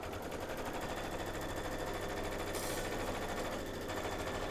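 A sewing machine runs steadily through a quilting pass, its fast, even mechanical chatter continuous and fairly close for the whole stretch, with no talking over it.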